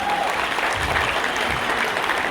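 An audience at a diamond leader recognition event claps for an honoree in a hall, a brief, steady wash of many hands at moderate loudness.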